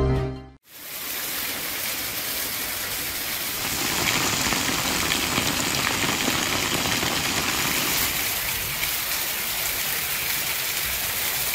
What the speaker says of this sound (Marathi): बुलढाणा जिल्ह्यात पुन्हा एकदा पावसाने हजेरी लावली आहे